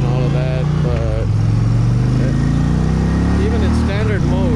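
A 2023 Indian Pursuit motorcycle engine and exhaust pulls hard on a demo ride at Daytona Bike Week, a loud droning growl that rises and falls as it accelerates, with wind rush and a voice talking over it.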